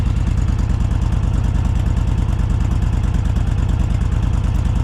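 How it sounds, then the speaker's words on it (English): A 2021 Honda Fury motorcycle idles with a steady, throaty low burble from its exhaust, close up and continuous, with an even pulsing rhythm and no one talking. "Let's take a second and listen to the exhaust."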